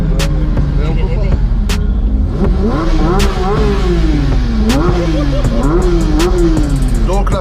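A race car engine at the GP Explorer event, screaming through repeated loud revs and gear changes with sharp pops, close and continuous, while voices talk over it.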